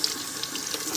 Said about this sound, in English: First thing you do, no matter what you're cooking, wash your hands.